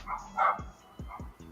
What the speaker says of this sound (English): Excuse these dogs out here, they tripping.